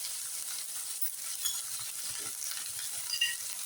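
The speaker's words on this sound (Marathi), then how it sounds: "छान अशी फ्राय करून घेऊ" Potatoes and spices, red chili powder and turmeric, frying in a pan for a village-style broad bean vegetable curry, a faint steady sizzle with soft stirring scrapes.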